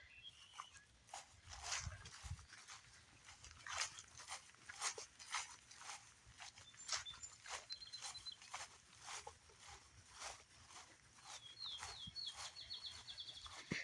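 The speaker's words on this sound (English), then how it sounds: "Red-winged blackbirds." Red-winged blackbirds calling repeatedly outdoors on a trail, short chirps and trilling notes spread through the clip at moderate distance, with footsteps and light rustling beneath.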